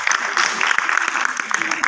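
An audience claps to welcome a stage actress at the inauguration of a stage drama, brisk steady applause over a short stretch with a voice faintly mixed in.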